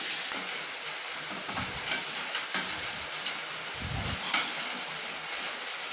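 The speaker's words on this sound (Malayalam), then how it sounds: "നമുക്ക് നന്നായിട്ടൊന്ന് മിക്സ് ചെയ്തെടുക്കാം." Liver fry stirred in a pan with spice paste: a soft continuous sizzle beneath several low scraping spoon strokes, moderately faint and without voices.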